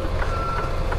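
Steady reversing beeps from a truck backing into an angled parking spot on a New York street, a high repeating tone sounding three times over a constant low engine rumble, close and fairly loud.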